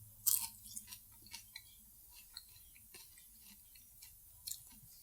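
Close, quiet crunching of crisped Yoder's canned bacon being chewed, soft irregular crackles and bites spread over a few seconds with no talking.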